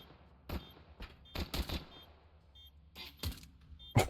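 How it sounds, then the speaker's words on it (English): Gunfire in a Counter-Strike match on the Inferno map, with about six sharp, separate shots spaced unevenly over four seconds against a quiet in-game background. "Just needs to land one tap on the head onto Edis."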